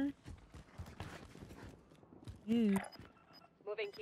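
Footsteps in the video game Call of Duty Warzone on Rebirth Island, a run of quick, light steps at moderate volume under a man's speech, with a louder voiced burst near the middle.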